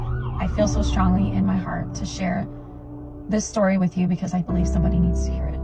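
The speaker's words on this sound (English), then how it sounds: "you can hear the sirens in the background for confirmation" Emergency vehicle sirens wail in the background under someone speaking steadily in the foreground, a faint rising and falling tone that runs beneath her voice.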